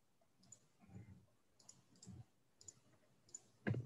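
Regular chalk drawing a smiley face on a plastic mason jar gives short, soft scratchy strokes and light taps, scattered close and quiet, ending with a sharper knock.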